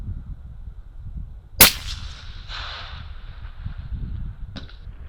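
A shot from a Pure Precision SKLTN rifle with a Helix 6 strikes a distant steel target, giving one sharp metallic crack followed by a short ringing tail, then a fainter second tap a few seconds later over a low outdoor rumble.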